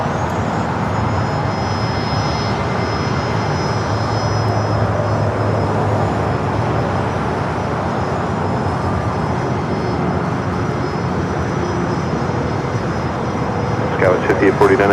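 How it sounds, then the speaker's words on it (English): An American Eagle SkyWest CRJ regional jet at Los Angeles LAX, bound for Sacramento, its engine noise a steady rumble with a thin high whine, running under voices. "Next takeoff is American Eagle SkyWest Flight 6348 heading to Sacramento"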